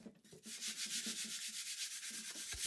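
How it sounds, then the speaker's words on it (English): A 220-grit sanding sponge scuffs back and forth across a wooden table base in quick, regular rasping strokes, close and steady. "using a 220 sanding sponge, I gave the entire base a scuff sanding"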